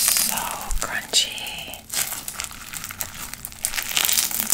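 Crisp crackling crunches up close as crunchy slime is squeezed in short bursts, with faint whispering around them.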